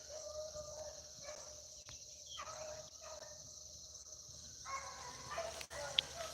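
Four beagles bay and yelp in the distance on a rabbit chase, rising and falling in overlapping bursts, with insects buzzing steadily nearby.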